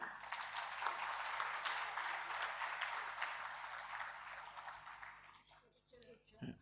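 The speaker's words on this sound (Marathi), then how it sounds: "जोरदार टाळ्या होऊन जाऊ देत." An audience at a literary society felicitation ceremony in Mumbai bursts into sustained, fairly distant applause that fades out over several seconds as a voice begins speaking.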